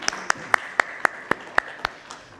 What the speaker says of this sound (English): Can you please applaud yourselves?